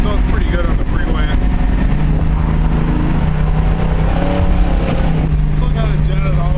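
An AMC Javelin's carbureted V8 runs on the road, a loud, steady low engine drone with slight changes in revs, close to the listener, with talking heard over it.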